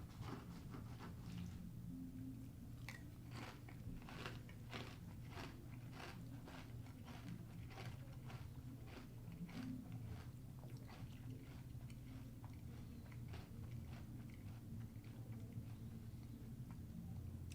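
Someone slowly chews Kashi Go Cinnamon Crisp cereal, puffy pieces giving soft, steady, faint crunching bites in a regular rhythm, heard close up with no talking.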